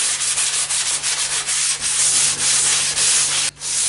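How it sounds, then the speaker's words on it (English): Kitchen cabinet lightly scuffed by hand with 150 grit sandpaper wrapped around a sanding sponge, quick close rhythmic rubbing strokes, bright and hissy, no voices. "take your 150 grit and just lightly scuff up the surface"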